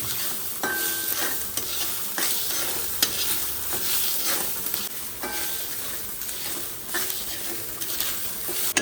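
Grated coconut roasts in a pan for erissery while a spoon scrapes and stirs it in repeated strokes over a constant frying sizzle, up close with no talking.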